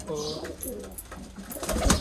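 Pigeons coo in a loft with nesting boxes holding eggs, a few soft throaty calls rising and falling close by over a busy, rustling background.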